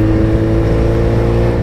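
Loud, close motorcycle engine roaring steadily with a deep throaty rumble, held at high revs through the whole moment, no talking.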